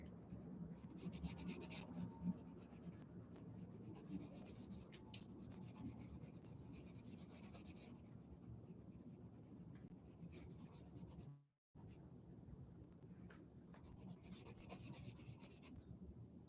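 Pencil shading a sphere on paper, graphite rubbing in a steady, continuous scratchy rasp of back-and-forth blending strokes, close and fairly quiet, with one brief pause near the end.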